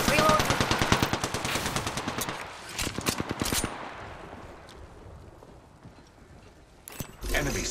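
Rapid automatic gunfire from the Apex Legends battle royale game, a long rhythmic stream of close shots that trails off into echoing decay, then a short final burst, with voices talking over it.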